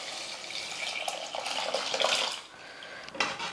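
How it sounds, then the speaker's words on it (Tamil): Water pours steadily into a pot of drumstick sambar with cooked lentils, a close splashing gush that runs for a few seconds, pauses briefly, then resumes. "சாம்பாருக்கு தேவையான அளவுக்கு வந்து தண்ணி சேர்த்துக்கலாம்."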